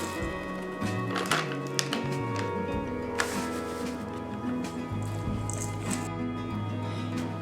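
A thick dip mixed with diced green onions in a bowl gives soft, wet squishing and scraping, with occasional taps of the utensil against the bowl, steady and close with no talking.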